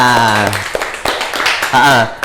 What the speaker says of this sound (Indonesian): Beri tepuk tangan buat teman-teman kita.